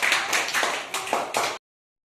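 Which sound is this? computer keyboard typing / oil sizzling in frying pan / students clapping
students clapping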